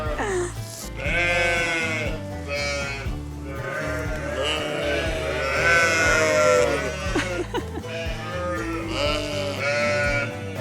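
Sheep bleat repeatedly inside a farm sheep pen, several overlapping calls rising and falling close by, loud and continuous with a crowded, busy texture throughout.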